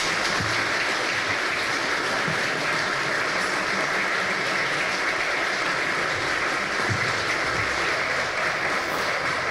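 Sustained applause from an audience at a Dominican state ceremony honoring Orlando Jorge Mera, a dense, steady roar of clapping throughout with no voices standing out.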